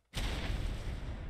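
An explosion in the modded ARK survival game goes off abruptly after a brief silence, followed by a loud, sustained roar of blast noise that holds steady for over a second.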